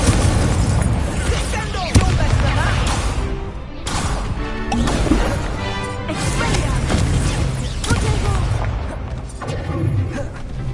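Loud, dense magical combat in Hogwarts Legacy on PS5: repeated bursts and crackling blasts of the Incendio fire spell roar continuously, with sharp impacts punctuating the fiery barrage.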